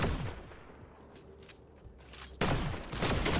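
Rapid bursts of video game gunfire in a shooter match, crackling shots that grow louder and denser near the end as the firefight picks up, with no talk over them.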